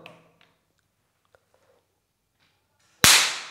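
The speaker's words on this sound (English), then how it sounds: "I'm going to charge it at full power and then detonate it" A screw detonated by a fully charged old motor capacitor gives one sharp, loud crack near the end, preceded by near silence with a few faint ticks.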